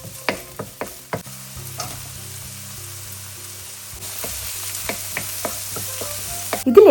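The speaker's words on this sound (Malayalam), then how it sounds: "ഇനി സെയിം പാനിലേക്ക് വെളുത്തുള്ളി, സ്പ്രിംഗ് ഒനിയൻ ബൾബ്സ്, ഒനിയൻസ് ഇവ ചേർത്ത് നല്ലതുപോലെ മിക്സ് ചെയ്തെടുക്കുക." Garlic, spring onion bulbs and onions stir-fried in a pan for egg fried rice, with steady sizzling frying under repeated sharp clatters and scrapes of stirring, growing louder at the end.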